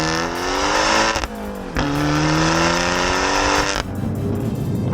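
An Abarth 695 Ferrari Tributo revs and accelerates hard through the gears, a loud, close, rasping engine note rising in pitch with abrupt drops at each shift, no speech.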